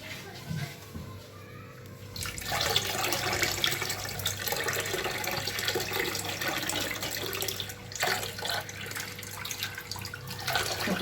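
Tap water running through a goat intestine while it is cleaned by hand, a steady splashing gush that swells after a couple of seconds and continues, with someone talking and background voices.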